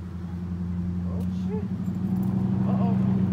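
A truck engine idles nearby with a steady low hum, while faint voices murmur in the background.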